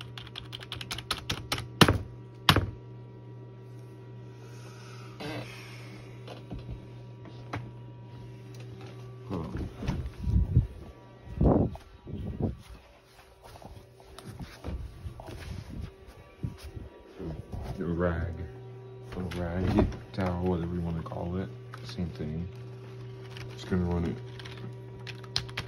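Keys clack on a wet, sticky computer keyboard in uneven bursts of close, moderately loud typing, broken by pauses and a few heavier thunks, over a low steady hum.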